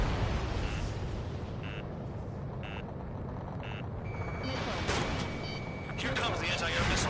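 An aircraft cannon fires in Ace Combat 7 amid a dense roar of engine and combat noise, with beeping cockpit alerts repeating and a burst of rattling gunfire near the end, all loud and continuous.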